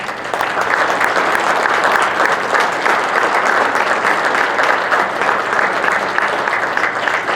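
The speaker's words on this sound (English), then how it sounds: "Please give them a round of applause." An audience applauds the band members at a senior high school band concert, with loud, dense, sustained clapping from a full auditorium that holds steady throughout.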